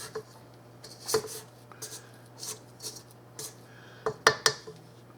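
A utensil scrapes and clinks against a bowl while stirring sugar into a bread pudding mixture, irregular close scraping strokes with a few sharper knocks near the end, no talking.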